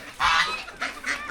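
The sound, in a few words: chicken being shooed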